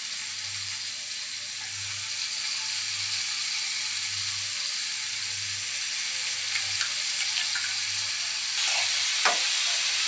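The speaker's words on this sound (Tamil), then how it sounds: "சுரக்காய் நல்லா வதங்கணும் நல்லா எண்ணெயிலேயே வதக்கணும்" Bottle gourd, onion and tomato sauté in oil for a chutney, giving a steady, soft sizzle throughout with a low hum underneath and a few faint stirring scrapes near the end.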